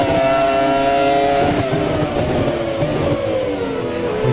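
A pack of race cars accelerating away from the start line at Imola, loud layered engine whine climbing through the gears, many cars blending together close by with no talk.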